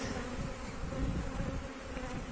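Honeybees at an open hive make a dense, continuous buzzing drone, close and steady, with no voices over it.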